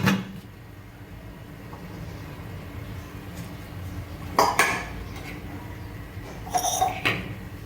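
A lid goes onto a cooking pan for a Kathiyawadi five-flour snack, heard as a couple of clear metallic clanks and rattles over a quiet, steady hiss of cooking.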